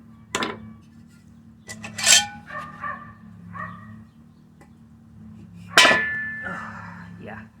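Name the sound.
metal clinking while removing engine cylinder head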